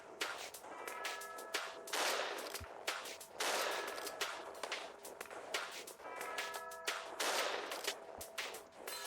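Repeated gunfire in a first-person shooter video game, with bursts of rapid shots in clusters and moments of footsteps between them, moderately loud and without talk.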